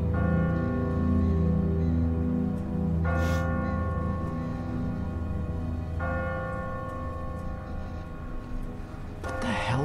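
A church bell tolls from a bell tower in The Walking Dead video game, sounding repeated loud, sustained ringing strikes with a long resonant hum, with a few fresh strikes layered over the decaying tone.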